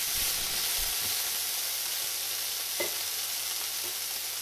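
Green onions frying in a pan for cheesy baked potatoes, stirred as the green part is added to the translucent onions: a steady soft sizzle with a few light utensil clicks and scrapes, no voices.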